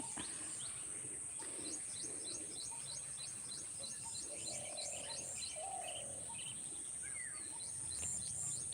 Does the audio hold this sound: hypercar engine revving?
no